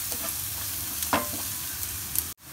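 Spices including coriander powder, salt, Kashmiri red chilli powder and cumin fry with onions in a pan for dal fry, a steady close sizzle with brief stirring scrapes before a sudden cut.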